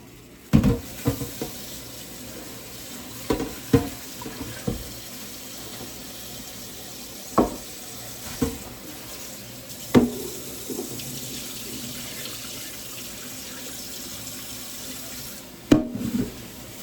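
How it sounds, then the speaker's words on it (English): Cold tap water runs into a sink as fresh pink salmon is rinsed under it, a steady close stream broken by irregular clunks and splashes as the fish is handled. "And then rinse it off with some fresh water,"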